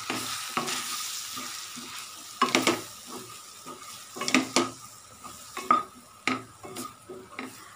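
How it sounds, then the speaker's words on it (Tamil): Sambar powder is stirred in a pan over a low flame for a bitter-gourd kuzhambu, with a steady soft sizzle under repeated scraping and clinking strokes of a spoon against the metal pan, close up. "இதை 3 ஆட் பண்ணி ஃப்ளேம் கம்மியில் வச்சு இதை திருப்பி விட்டுக்கலாம்."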